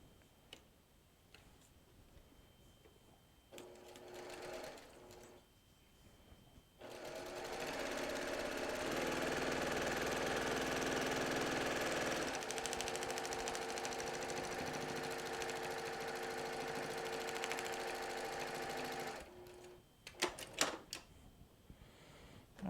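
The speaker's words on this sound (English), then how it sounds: "we're going to stitch from here all the way down to there" Sewing machine stitching a seam on a log cabin quilt, starting with a few short bursts, then running in a steady, loud, fast whir for about twelve seconds before stopping, followed by a few handling clicks.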